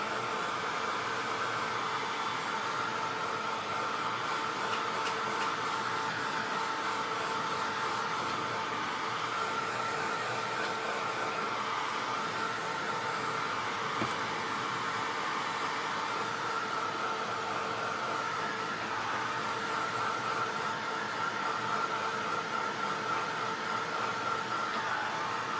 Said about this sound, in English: keep your tool moving because you don't want to reactivate or try, you don't want to burn the embossing powder.